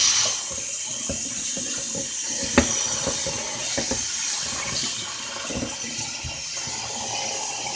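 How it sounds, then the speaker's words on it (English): Tap water runs steadily into a kitchen sink as fat is rinsed out of cooked meat, a continuous splashing stream with small clatters and knocks. "Then we're going to wash all the damn ugly fat out of there."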